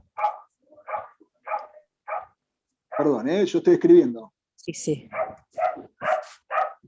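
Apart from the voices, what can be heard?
small dog barking over an open microphone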